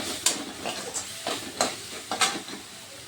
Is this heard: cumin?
yes